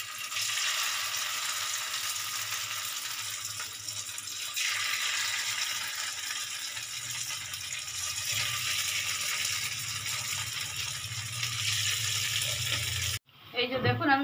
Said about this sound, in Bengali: এবার এগুলো আমি ভেজে নেব এক এক করে।